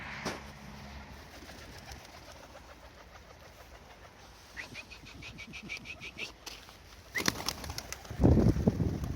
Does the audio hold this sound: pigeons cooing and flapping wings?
yes